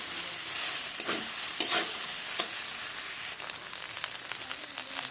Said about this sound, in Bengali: এবার এভাবে ভালোভাবে নাড়বো এটাকে